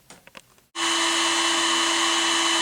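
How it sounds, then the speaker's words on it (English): Vacuum cleaner switches on abruptly after a few faint knocks, then runs with a loud, steady whine and a strong constant tone. "What's that noise? The vacuum, it makes my cleaning duties easier."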